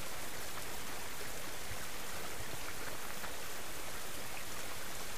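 Rain in the survival video game Subsistence, a dense steady hiss of falling drops that stays constant and fairly loud throughout, with no voices.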